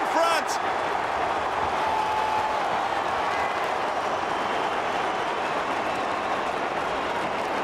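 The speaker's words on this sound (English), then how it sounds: "Crowd comes to life." Loud, sustained crowd roar fills a football stadium after a goal in an AFL match between Carlton and Essendon, a dense wash of cheering throughout with commentary voices over it.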